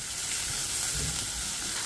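Two sliced large onions, added to green chillies in a hot pan for a coconut milk pulao, sizzle and fry with a steady, loud hiss.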